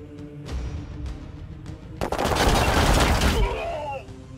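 Heavy gunfire from the Warhammer 40k Chaos Gate video game: scattered shots, then a loud sustained burst of rapid fire, close and dense, that fades into whining debris sounds.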